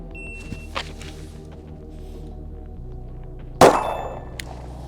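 A single sharp gunshot from a customized Glock handgun rings out with a metallic clang off a steel target, preceded by faint small knocks and followed by a short ringing decay.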